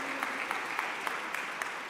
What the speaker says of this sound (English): Please give Sister Sandra, on behalf of Brother Ismail Muhammad, well-deserved round of applause.